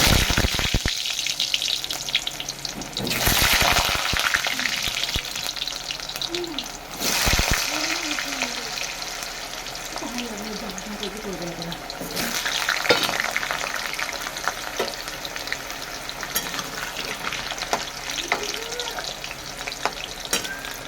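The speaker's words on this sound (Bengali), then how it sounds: "আলুটা ভেজে নেবো কড়া করে লাল লাল করে" Potatoes frying in hot oil in a kadai, a steady bright sizzle running throughout with bursts of stirring, mid-distance and fairly loud, while a voice speaks intermittently over it.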